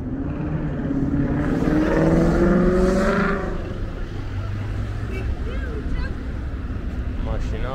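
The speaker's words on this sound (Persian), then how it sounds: "ماشینا با اگزوز صدادار و این چیزا سوان پس زیاد میان اینجا" Cars with loud aftermarket exhausts rev and rumble along a busy street in Shiraz, one engine surging loudly up close before settling into a steady traffic drone, with someone talking over it.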